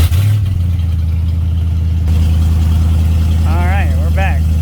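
A car engine cranks and catches after an MSD Digital 6 Plus ignition upgrade, settling into a steady, loud idle with a brief sputter at the start; a person talks over the running engine near the end.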